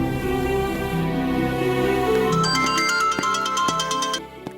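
A phone rings with a melodic electronic ringtone of tonal notes, loud and close, gives way to a run of brighter repeated chimes, and stops abruptly near the end, with no speech over it.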